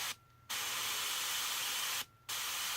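An airbrush test-sprays in two long bursts of steady, loud hissing air, each broken by a brief pause when the trigger is released.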